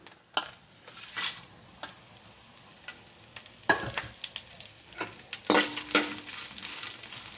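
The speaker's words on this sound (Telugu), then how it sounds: "చిన్న మంట పెట్టుకోండి ఎనిమిది ఉన్నాయి కదా ఇవి వేయించుకుందాం ఈ విత్తనాలు కూడా వేసేసుకోండి" Chillies and guava seeds fry gently in a pan over a low flame for guava chutney, a soft continuous sizzle broken by several sharper clicks and stirring scrapes, close and fairly quiet, with no talking.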